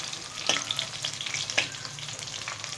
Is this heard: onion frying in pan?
yes